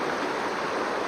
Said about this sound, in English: filtering some water through his water purification squeeze bottle, and he's priming it right now